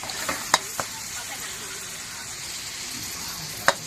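Pad thai stir-fried at a Thai street noodle stall, with a steady sizzle from the pan and a few sharp clanks of a utensil against the wok.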